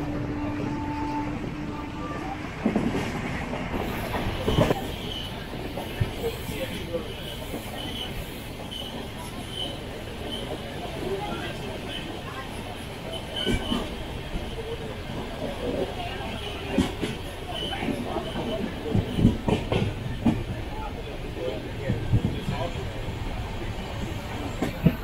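Antyodaya Express train running on double line track between Tirumangalam and Virudhunagar, a steady loud rumble of rail wheels with scattered clicks and clatter throughout, heard from inside an unreserved carriage with faint voices in the background.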